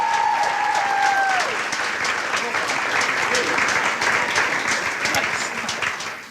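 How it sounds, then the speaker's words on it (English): Audience applause fills the hall at an MLK innovation and leadership award ceremony, a full, even roar of clapping that persists throughout, with brief speech at the opening before the hands take over. "So let's give another round of applause for Melanie Carter."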